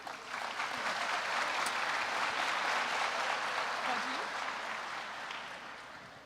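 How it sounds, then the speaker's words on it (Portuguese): A church seminar audience applauds for several seconds, dense steady clapping that swells early and fades toward the end. "Vamos aplaudir essa moça?"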